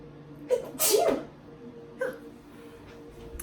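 One loud sneeze bursts out early, followed by quiet breathing and a smaller sniff-like sound.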